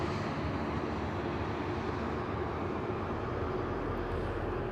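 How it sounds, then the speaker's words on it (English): Steady loud roar of a Ryanair jet's engines during pushback at Madeira Island Airport, a continuous broad rumble with no talk. "Ryanair pushback."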